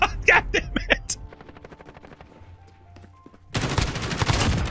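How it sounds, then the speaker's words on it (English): Gunfire from the video game Call of Duty Modern Warfare, with sharp bursts of rapid shots at the start, a quieter stretch of scattered pops, then a sudden loud sustained roar of fire at the end. "I'm dicking around, shooting people all over this town."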